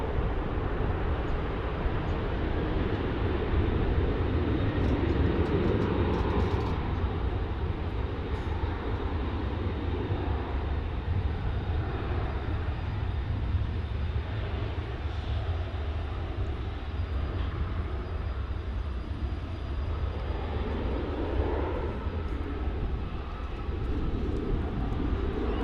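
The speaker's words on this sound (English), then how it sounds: "Alaska Airlines in from Seattle." Alaska Airlines jet from Seattle arriving at DFW airport, a steady, loud, broadband engine roar and rumble that holds throughout without letup.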